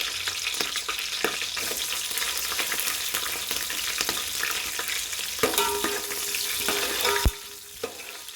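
Green chillies fry in hot oil with whole spices for a chicken fry, a steady crackling sizzle with frequent scraping and tapping of a spatula against the pan, ending in a sharp knock.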